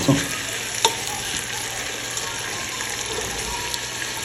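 Chicken pieces for mandi sizzle and fry in a pan as they are turned over, a steady close hiss with a couple of brief clinks from the utensil.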